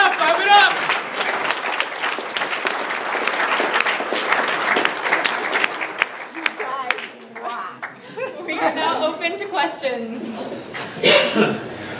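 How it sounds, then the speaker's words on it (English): An audience at a camp event claps and applauds, brisk clapping with some chuckles and crowd voices, loosening into scattered claps and talk in the second half. "Clap it up, clap it up."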